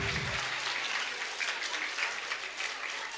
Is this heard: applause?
yes